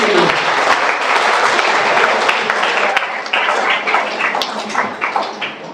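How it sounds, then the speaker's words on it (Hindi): A studio audience bursting into loud sustained applause at a scientist podcast interview, dense clapping that holds strong for several seconds, then thins out toward the end. "जोरदार तालियां इस क्वेश्चन के लिए।"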